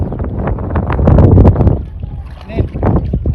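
A fishing trawler on a tidal river under a threatening sky rumbles with heavy, gusting wind buffeting the microphone, loud and close, while voices talk over it.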